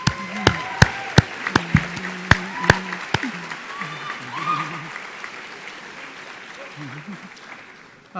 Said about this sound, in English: So if you give them both a round of applause, please.